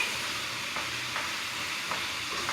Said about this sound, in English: y'all hear that sizzle, baby?